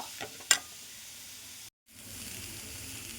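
Onion, green chili and curry leaves sauté in a pan with a soft, steady sizzle, a couple of sharp clicks near the start and a brief break before the frying hiss resumes.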